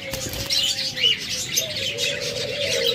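A pair of lutino red-eye budgerigars chirps nearby in busy, overlapping high twitters, with a steady faint tone running underneath.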